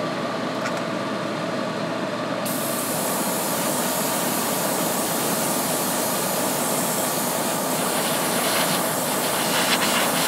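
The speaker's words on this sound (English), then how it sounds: "my exhaust fan is on" A loud, steady whooshing hum of an exhaust fan during airbrushing runs continuously with a broad hiss, unchanging throughout.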